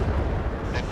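A missile launching from a warship in a naval combat video game: a loud, close, deep rumbling roar with a rushing whoosh, heard alone over about a second.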